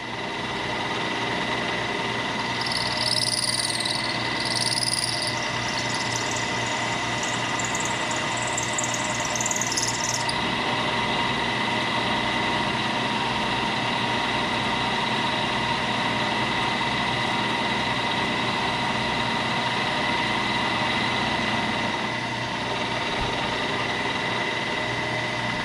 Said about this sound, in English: I'm only going to peel off about 40 thousandths at a time because that cutter has done a lot of milling